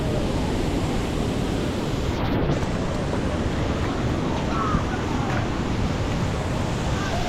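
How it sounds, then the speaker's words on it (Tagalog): A tall waterfall roars in a canyon in Cebu, a dense, steady broadband rush that stays loud and unbroken throughout, close by, with no clear voices over it. "Eh legit na falls. Ayan yung falls."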